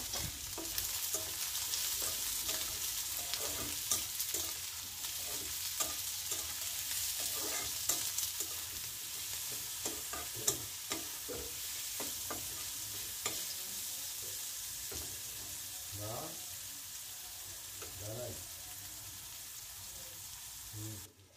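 Onions and chilies frying in oil for a curry in a home kitchen, giving a faint, continuous sizzle with scattered stirring clicks and scrapes throughout.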